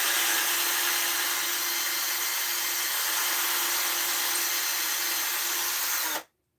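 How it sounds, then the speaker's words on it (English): A power drill enlarges a hole in a wooden board, running as one loud, steady, continuous whine for about six seconds and then cutting off abruptly, close up with no talk. "Do some more drilling."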